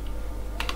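Two quick clicks of typing on a computer keyboard toward the end, close and brief, over a steady low hum.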